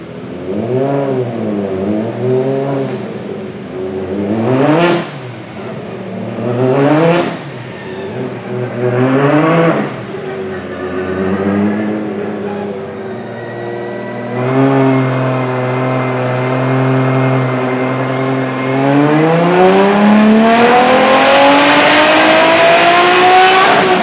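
A Ford Mustang fitted with a 2JZ engine making 1700 hp revs hard in repeated loud, rising bursts, then holds a long, climbing wail as the revs build to a harsh, roaring peak, close by and with no talk.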